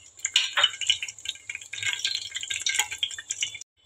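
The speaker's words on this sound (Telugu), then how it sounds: "ఇవైతే వేగాలి." Whole spices such as cardamom and cinnamon sizzle in hot oil, a quiet, close, uneven crackle with light pops and rattles, ending in a brief silence.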